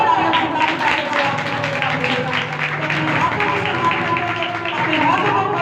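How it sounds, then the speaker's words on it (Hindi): A church congregation claps loudly in praise at a Friday evening meeting, dense sustained applause from many hands with voices mixed in throughout. "तो फिर जोरदार तालियां खुदा की तारीफ करें।"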